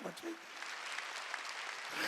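A congregation claps together during a Korean church worship service, a faint and steady wash of hand claps heard from a distance.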